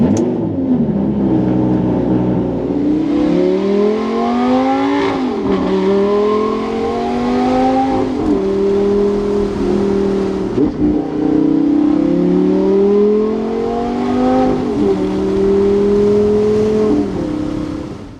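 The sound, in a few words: Lamborghini Gallardo engine starting and revving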